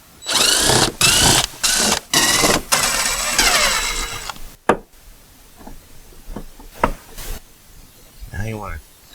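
A power tool whirs in several short bursts while removing small bumper cover bolts in the wheel well of a GM SUV, followed by clicks and knocks of handling parts.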